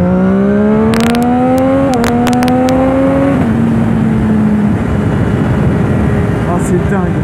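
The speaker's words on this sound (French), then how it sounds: "On va essayer une accélération au deuxième." A Triumph 675R Daytona motorcycle accelerates hard in second gear, its loud, rising engine note climbing steadily with a brief upshift before fading, recorded close from the rider's position with wind noise throughout.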